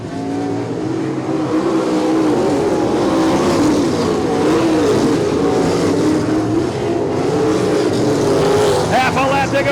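Sprint cars race at Champaign Speedway in a POWRi WAR Sprint Car League event. Several engines roar and whine together, loud and continuous, with a crowd and an announcer's voice over the top.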